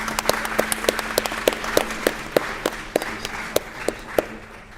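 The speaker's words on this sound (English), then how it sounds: "and applaud you for joining us?" A sparse audience applauding young learners at a congressional hearing, a handful of distinct claps spaced irregularly over a quiet room hum, moderately close.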